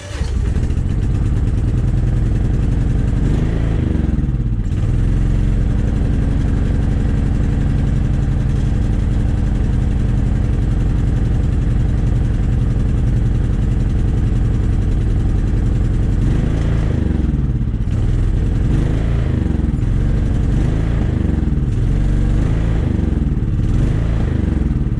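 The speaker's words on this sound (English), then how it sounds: "Now we're going to start it." A riding lawn mower engine starts and then runs steadily on its own, near and loud throughout, with a surging, uneven note and rises in pitch toward the end.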